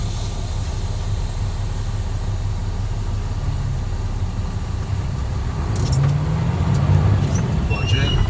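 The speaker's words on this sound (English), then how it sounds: "I'm going to roll forward 5 miles an hour, push my clutch in, hit my service brake" A tractor truck rolls forward at about five miles an hour with the clutch pushed in during an air brake test, a steady low engine rumble that swells near the end as the service brake comes on, with short hissing bursts.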